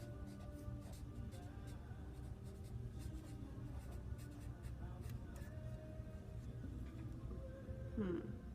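Faint, close scratching of a pen or pencil on paper as a few words are written by hand, with light irregular strokes over a quiet room background.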